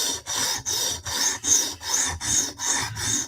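Knife blade drawn across a sharpening stone on a TSProf Kadet guided sharpener, a Hinderer folder, in steady rasping strokes, about eight even passes in a regular rhythm, close and clear with no talk.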